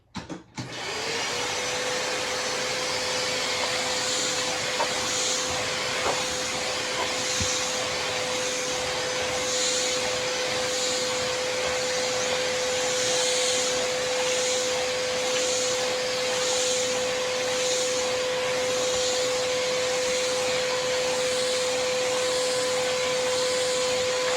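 A Eureka Mighty Mite vacuum cleaner motor runs steadily and loud throughout, with a constant whine over a broad rushing airflow, starting abruptly at the beginning.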